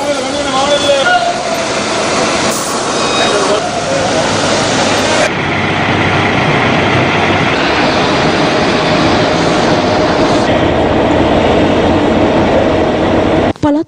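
An inter-provincial long-distance passenger train rumbles past on the rails with a loud, continuous roar and rattle, accompanied by steady speech throughout.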